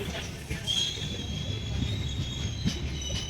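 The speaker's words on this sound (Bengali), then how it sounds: "এগুলো হচ্ছে ইঞ্জিন, এই ইঞ্জিনগুলো এই ট্রেনগুলো টেনে নিয়ে যায়, বগিগুলো।" An Indian Railways train at Kolkata junction gives a steady rumbling roar with a thin high wheel squeal and faint metallic clatter, heard close by and continuous with no talking.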